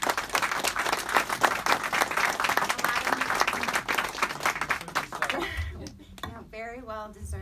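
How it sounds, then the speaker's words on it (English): A conference audience at a policy event claps warmly for three honoured guests, a sustained loud wash of applause that thins out near the end as a voice begins speaking. "very well deserved applause."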